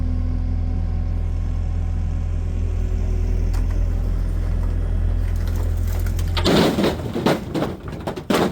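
A vehicle hauling a crate rolls in with a low, steady engine rumble that holds for several seconds, then gives way to louder crunching and clattering bursts as it pulls close.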